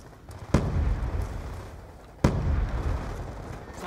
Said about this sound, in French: Grenade lancée.